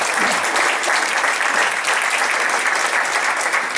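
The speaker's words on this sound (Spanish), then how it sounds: "Puede tomar su lugar dando fuertes palmas al Señor." A church congregation claps loudly and steadily, a dense unbroken burst of applause filling the room from start to finish.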